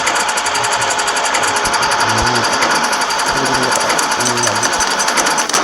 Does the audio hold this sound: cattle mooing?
no